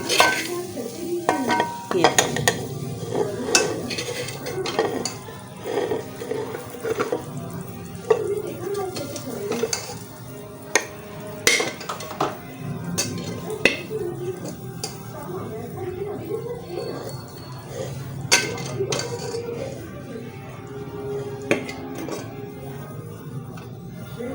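Cooked beef gosht is scraped and served out of a cooking pot, with intermittent metallic clinks and spoon scrapes, faint sizzling underneath, and a voice speaking at times between the utensil knocks.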